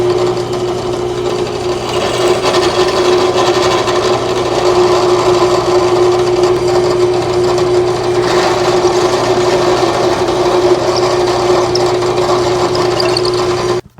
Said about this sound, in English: I'm going to drill a 3/16 of an inch hole in the bottom of the head.